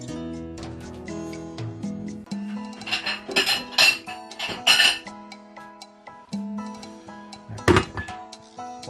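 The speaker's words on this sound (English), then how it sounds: "To place my spatula down" Kitchen sounds from cooking a South Indian salmon and prawn rice dish: a spatula is set down on the counter among clinks and knocks of pots, pans and utensils. Soft music plays under them, and one loud knock comes near the end.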